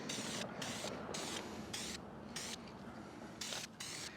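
Spray coating misted onto parts of a 1966 Ford wagon, short hissing bursts from a spray can in irregular pulses with brief gaps, faint and close, with no talking.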